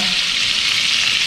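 Clementine juice squeezed into melted Kerrygold butter sizzles in a pan, a loud, close, steady bright hiss throughout with no talk.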